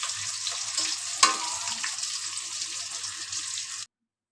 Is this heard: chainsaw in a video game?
no